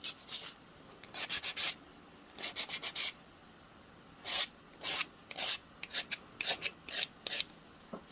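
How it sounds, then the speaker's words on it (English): Nail file rasping across hard gel nails in short quick strokes, faint and close, coming in irregular bursts of several scrapes separated by brief pauses. "when you're filing too"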